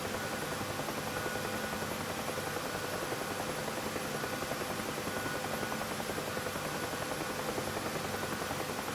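An aircraft engine drones in steady flight in the DCS military flight simulator, a constant, dense, unbroken roar with no talk.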